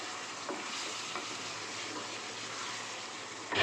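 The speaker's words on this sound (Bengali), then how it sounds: "এইভাবে কিন্তু হাই ফ্লেম রেখে চিকেনটাকে কন্টিনিউয়াসলি কষিয়ে নিতে হবে ভালো করে" Chicken curry with masala stirred and fried over a high flame, giving a loud, steady sizzle with stirring scrapes throughout and a brief louder clatter at the end, with no talking.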